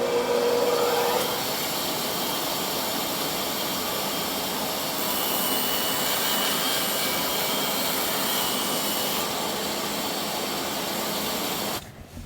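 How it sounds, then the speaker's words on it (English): A bandsaw rips through a cold foam board, giving a continuous loud, steady whine with a broad hiss that runs unbroken for about twelve seconds before stopping abruptly, with no talking. "then I'm just going to rip it on the bandsaw"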